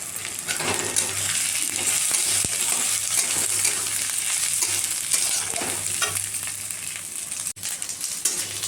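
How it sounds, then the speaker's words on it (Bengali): Lentils (dal) frying in hot oil with chopped chili until lightly reddened, a continuous close sizzle broken by scraping stirs and a few sharp clinks of a spoon on the pan, with no voices. "এই ডালটা ভালো হালকা লাল করে ভাজবো"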